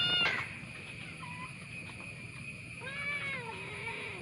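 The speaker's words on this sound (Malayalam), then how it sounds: "ഒരു കോഴിപ്പെണ്ണുണ്ട് കൂടെ കേട്ടോ" A hen clucks quietly nearby, a few soft wavering calls over faint background noise.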